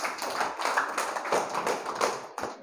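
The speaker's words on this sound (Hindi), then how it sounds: "तो उसके लिए आप लोग एक बार ताली बजा दीजिए।" Classroom students clap for a classmate in a quick, uneven burst of many hands. The sharp patter fades after a few seconds and stands alone without speech.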